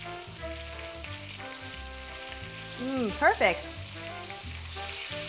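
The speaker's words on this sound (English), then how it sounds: "Now let's flip the lamb." Lamb pieces sizzle and fry steadily in a hot pan, a constant crackling hiss under music, with a brief burst of louder spitting mid-way; a voice speaks briefly.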